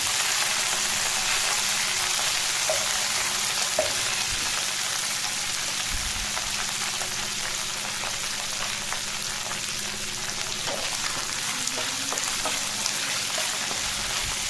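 Curry leaves fry in hot oil for chicken liver fry. A steady, rain-like hiss of frying continues at moderate level throughout, with a few small crackles and spatters.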